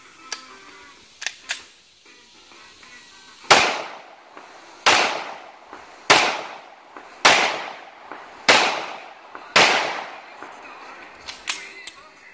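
Pistol shots from a 9mm XDM 4.5 handgun: two quick faint pops, then six loud, sharp, evenly spaced shots with ringing tails, and a few softer pops at the end.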